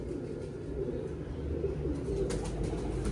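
Soft, low pigeon cooing murmurs continuously in the background, steady and fairly quiet, with no speech.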